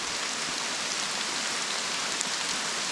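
Rain falls in a steady, dense hiss with no breaks, close and fairly loud, with no voices.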